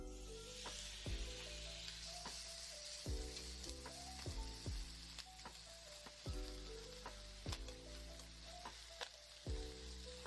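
Chicken pieces frying in a little oil in a hot pan, a constant bright sizzle punctuated by sharp clicks and taps of a utensil against the pan at irregular intervals, close up with no voices.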